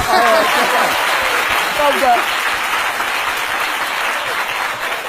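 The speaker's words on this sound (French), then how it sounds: "Applaudissez ça, non?" An audience at a televised biography tribute applauds loudly and continuously, a dense wash of clapping from start to finish with a voice briefly heard over it.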